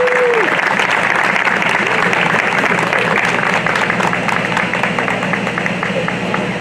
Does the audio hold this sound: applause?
yes